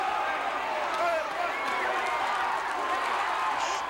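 A capacity crowd in a 1985 WWF wrestling arena roars steadily, a dense wash of cheering and shouting that continues unbroken beneath a commentator's voice.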